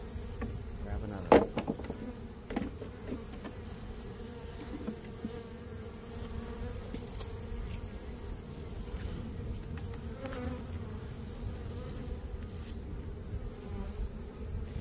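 Honey bees buzz continuously around collapsed comb during a bee rescue, a steady close hum with occasional louder passes of individual bees near the microphone.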